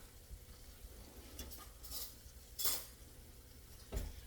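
Pats of butter sizzling in a frying pan as garlic butter chicken cooks, a soft steady crackle broken by a few brief louder bursts and faint utensil clinks.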